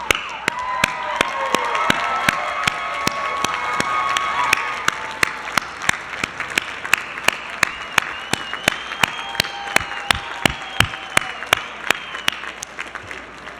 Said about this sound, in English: I want the graduates and the faculty to stand and let us applaud each other for this last 3 years